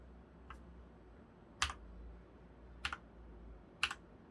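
Individual keys pressed on an Mstone Clarion tenkeyless mechanical keyboard, fully lubricated, with Coral V2 45g switches: four separate soft, clacky keystrokes spaced about a second apart over a quiet background.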